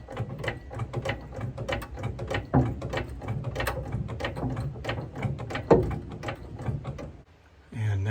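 A jack is shifted under the castle nut on a Humvee's lower ball joint, giving close metallic rattles, ratcheting clicks and scraping, with a couple of sharper clanks and a brief lull near the end.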